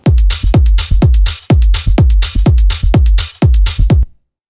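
Minimal underground house drums and bass play together: a punchy kick thumping steadily with deep bass beneath, topped by a small ticking hi-hat and light shakers, a loud, driving groove that stops abruptly near the end.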